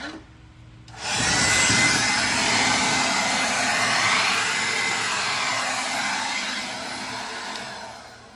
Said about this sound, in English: I have my little electric blower